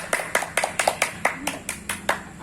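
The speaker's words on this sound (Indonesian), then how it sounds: "kita beri tepuk tangan untuk Ibu Fitri" A group of women claps for Ibu Fitri in a tight, steady rhythm, about nine evenly spaced sharp claps, close and moderately loud, with faint voices in the background.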